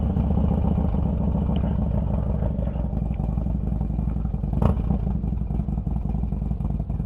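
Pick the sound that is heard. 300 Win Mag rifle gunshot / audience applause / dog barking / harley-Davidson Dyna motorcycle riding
harley-Davidson Dyna motorcycle riding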